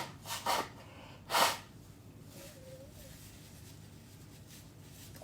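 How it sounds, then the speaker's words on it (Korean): Someone blows their nose twice during a live broadcast, two short forceful snorting bursts up close, followed by quiet rustling and breathing. "시원하게 코 풀으셔도 됩니다"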